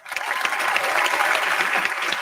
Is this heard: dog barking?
no